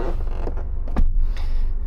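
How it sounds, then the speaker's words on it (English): A Dodge Dart car door creaking loudly as it swings, several close creaks and a clunk over about two seconds, with no talk. "The doors do make a lot of noise."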